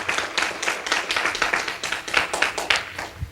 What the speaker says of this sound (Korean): 참 아버님께 돌려드리는 큰 박수를 영광으로 올려드리겠습니다